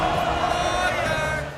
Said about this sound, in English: They're starting to celebrate now at Oracle Arena.